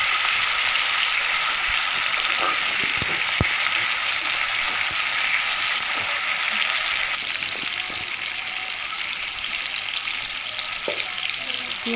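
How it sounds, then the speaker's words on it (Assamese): Chopped tomato fries in a pan for a chicken dish, giving a steady, close sizzle that runs the whole stretch, with a few light clinks and stirring knocks scattered through it. "ইয়াত কাটি লোৱা বিলাহী এটা আমি ইয়াতে দি অলপমান ভাজি ল'ম।"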